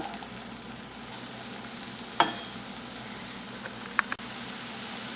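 Nendran banana slices fry in ghee in a pan for a Kerala-style roast, giving a steady close sizzle with a few sharp clicks as pieces are turned over, no voices.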